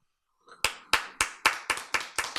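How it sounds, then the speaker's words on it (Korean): An audience claps in unison during a lecture on gene methylation: about seven sharp, evenly spaced claps, close and loud, with no talking. "박수 좀 크게 치세요"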